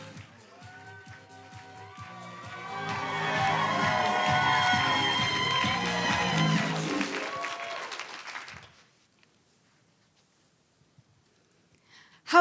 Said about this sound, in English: now keep that round of applause going